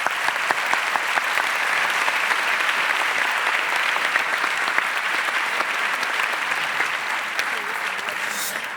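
A theatre audience at the Teatre Principal de Terrassa applauds for nearly nine seconds after a play's presentation, a full, sustained roar of clapping that thins slightly toward the end.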